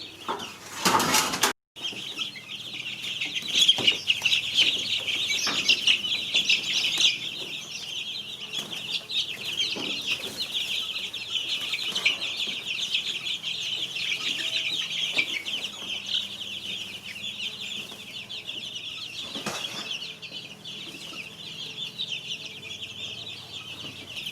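Many chickens on a homestead cluck and chatter continuously at close range while scratching through scraps, with occasional wing flutters and a brief knock at the start.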